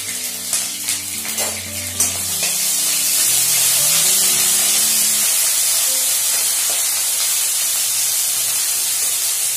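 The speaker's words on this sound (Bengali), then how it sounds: "কারি পাতা দিলে একটু কারি পাতাটা ফাটবে" Oil hisses and crackles loudly as curry leaves hit the pan, a brief burst of pops settling into a steady, close sizzle.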